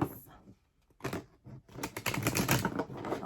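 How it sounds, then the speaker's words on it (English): A deck of tarot cards is shuffled by hand, giving quick papery riffles and dense rapid flutters in bursts separated by brief pauses, close and fairly quiet. "I'm going to shuffle these."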